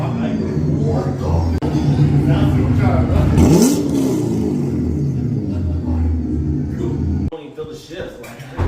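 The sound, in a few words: C8 Corvette engine driving onto race ramps in garage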